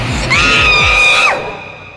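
A woman lets out one loud scream with a high pitch that holds for about a second, then breaks off, close and unaccompanied.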